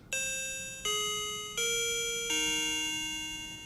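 An Arlec DC681 wireless door chime rings four descending tones, each clear bell note struck and left to ring out before the next.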